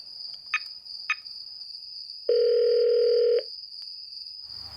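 A single ringback tone on an outgoing phone call in a crime audio drama sounds as one steady electronic burst, about a second long, over a faint constant high whine.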